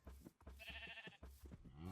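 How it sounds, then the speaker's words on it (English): Sheep bleat in the Minecraft video game: a few wavering, nasal cries close by, the last one drawn out, with a brief voice-like sound mixed in. "Sheep, go away."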